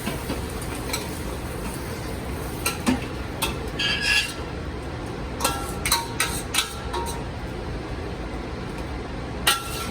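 Freshly boiled cassoulet mixture is transferred into a pan, giving scattered clinks and scrapes of utensils against cookware over a steady low kitchen background.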